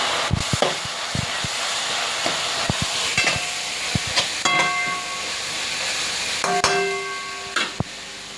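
Onions fry with salt and turmeric in a pan, giving a moderate hiss and sizzle under repeated spoon taps and scrapes, with a few brief ringing metallic clangs from the pan.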